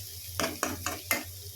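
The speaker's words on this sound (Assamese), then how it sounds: "এয়া দেখিছে, এয়া ভাজি আছোঁ।" Food frying in a pan while masoor dal is cooked at home, with four distinct sizzling bursts about a quarter second apart as the contents are stirred, over a low steady hum.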